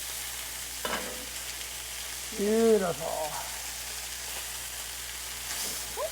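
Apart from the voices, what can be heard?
peppers sizzling while frying in a pan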